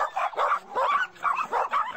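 A dog in an enclosure, wearing a bark-limiting collar, gives about five rhythmic, evenly spaced barks and yelps at close range, with no talking.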